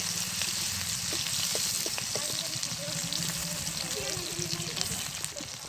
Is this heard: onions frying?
yes